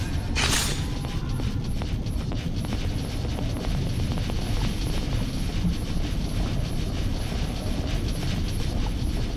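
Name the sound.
helicopter flying in the video game God Eater Resurrection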